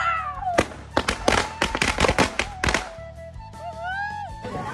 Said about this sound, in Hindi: और ये रहा बीड़ी बम, ये चलाना तो मेरे को बहुत इजीली आता है।